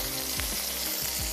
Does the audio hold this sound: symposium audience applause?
no